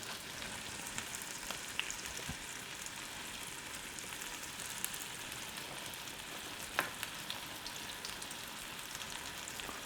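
Steak frying in hot butter in a pan, a dense continuous sizzle with faint crackles and a few small pops, steady and close throughout, no speech.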